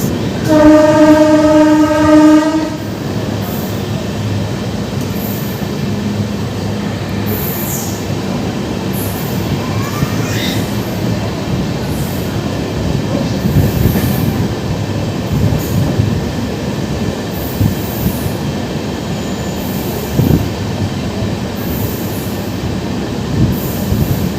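Shalimar–Charlapalli East Coast Express train going by: a loud multi-tone horn blast at the start, then a sustained heavy rumble and clatter of coaches rolling past close by, with no voices.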